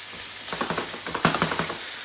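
Chicken sizzles in a hot frying pan with its heat turned down, a steady close hiss broken by a series of crackling pops and one sharper burst partway through.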